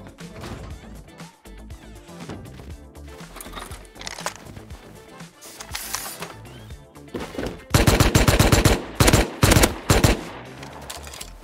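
Video game gunfire in a raid setting: repeated sharp shots and rapid automatic bursts, loud and close, growing denser and louder toward the end, with other game sounds in between.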